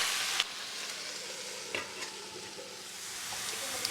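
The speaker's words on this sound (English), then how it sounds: "Just uncovered and just stirring everything." Cabbage, arugula and pac choy sauté in an uncovered pot and are stirred, giving a steady sizzle with scraping and clinks from the stirring, close up and with no talk.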